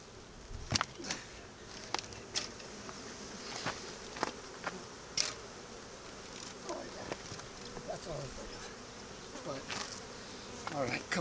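Bees buzzing around an outdoor beehive, a steady faint insect drone with darting individual bees passing close by, while a beekeeper lights a pine-needle smoker.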